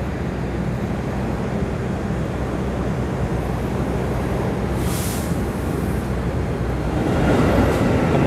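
The Argo Muria passenger train pulls out at night with a broad, steady rumble and rolling rail noise that swells slightly toward the end, with no voices.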